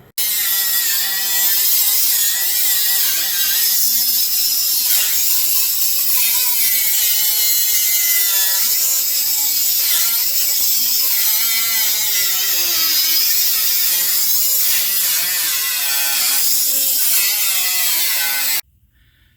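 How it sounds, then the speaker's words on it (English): A power tool cuts steadily through a car's rocker panel, a loud, continuous, gritty metallic whine that shifts slightly in pitch as it bites, running without pause until it cuts off near the end. "So, starting to cut this rocker panel off."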